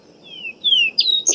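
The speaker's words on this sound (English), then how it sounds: "That's the Vesper sparrow." Vesper sparrow song outdoors: a few clear, slightly falling whistled notes followed by quicker higher trills, moderately loud and close, with no talking.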